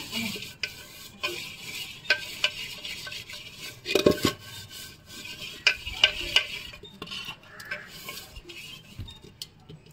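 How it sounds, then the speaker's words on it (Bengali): Turmeric and mustard oil being rubbed around the inside of a new clay pot, heard as soft intermittent scraping and rubbing strokes with a sharper knock midway, close but quiet. "হাঁড়ি যেহেতু নতুন, তাই আমি হলুদ আর সর্ষের তেল একটু ভালো করে হাঁড়ির মধ্যে মাখিয়ে নেবো।"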